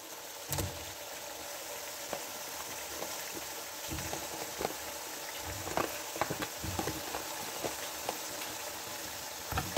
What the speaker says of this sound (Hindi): अब मैं इसके अंदर चिकन डाल देती हूँ।